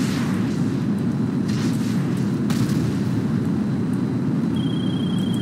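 A low, sustained rumbling roar fills the scene as a player in the video game GTA5 blows himself up with an explosive weapon, steady and heavy throughout, with a brief sharp crack partway and a faint high whine near the end.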